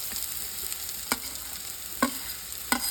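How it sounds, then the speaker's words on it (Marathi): Onions frying in a pan for Goan crab masala, with a steady sizzle and three distinct clinks or scrapes of a spoon stirring against the pan, close and moderately loud, no talking. "आता कांदो भाजलो आता सोय घालता"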